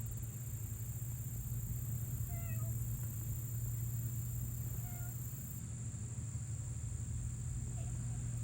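Small kittens give a few faint, high mews at intervals over a steady background hum and rumble.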